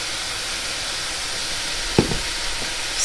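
Bacon-wrapped duck breast sears in a pan with a constant close sizzle, broken near the end by a sharp clack and a few softer knocks from a utensil.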